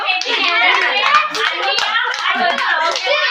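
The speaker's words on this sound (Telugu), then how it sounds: "కంగ్రాచులేషన్ చెప్పి క్లాప్స్ కూడా" A small group clapping hands in congratulation at a wedding anniversary surprise, steady dense applause lasting throughout, with a voice faintly mixed in.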